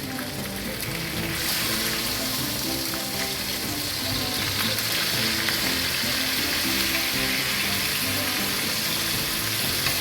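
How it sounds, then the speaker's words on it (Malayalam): Chechada fish sizzles and crackles steadily in hot oil, a loud continuous frying hiss throughout. "നല്ലതായിട്ട് ക്രിസ്പി ആയിട്ട് വേണം ഇത് ഫ്രൈ ചെയ്തെടുക്കാൻ."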